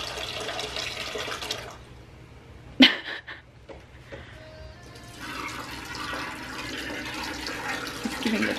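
Running water splashes and pours in a steady stream into the dogs' water, pauses briefly after a sharp knock, then resumes filling.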